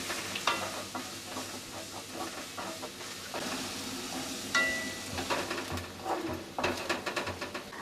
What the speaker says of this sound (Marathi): कांदा घातल्याच्या नंतर यामध्ये आपण मगज घालूया आणि चांगलं परतून घ्यायचं आहे